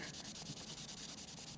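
Polish is rubbed by hand onto a leather restraint cuff, making a faint, steady, close scrubbing rasp with a soft repeating stroke rhythm and no talking.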